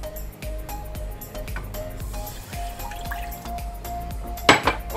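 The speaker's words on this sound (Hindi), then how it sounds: "शुगर सिरप बनाने के लिए 1 कप पानी," Water trickles and splashes into a metal pan for sugar syrup in a home kitchen, mixed with sharp clinks and knocks of cookware and utensils, close up and moderately loud, with a sudden louder splash near the end.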